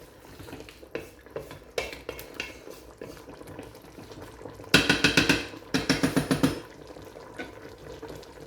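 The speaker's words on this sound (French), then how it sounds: "De temps en temps, on tourne la viande, comme ça." Meat for Moroccan vegetable couscous is turned and stirred in a pot, giving scattered scraping clinks at first, then two bursts of rapid, rhythmic metallic scraping against the pot over a low sizzle.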